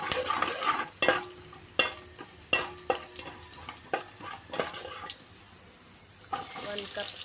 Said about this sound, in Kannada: ಆಯಿಲ್ ಕಾದ ನಂತರ ಜೀರಿಗೆ, ಸಾಸಿವೆ, ಒಣಮೆಣಸಿನ್ಕಾಯಿ, ಬೆಳ್ಳುಳ್ಳಿ,